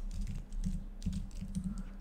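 Rapid typing on a computer keyboard while writing Java code in the Eclipse editor, a steady close run of clattering key presses with no talk.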